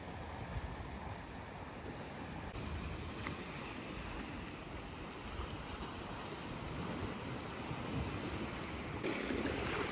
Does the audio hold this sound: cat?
no